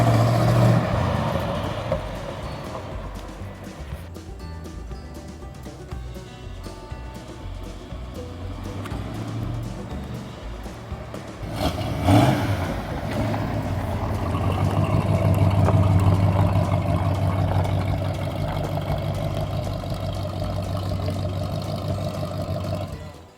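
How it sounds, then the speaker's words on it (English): A 1969 Chevrolet Chevelle SS, back on the road after decades, runs and drives with a steady engine drone that dips and swells, near and fairly loud, with a voice talking over it. "So we have accomplished our goal of getting this car back on the road for the first time in 40 years"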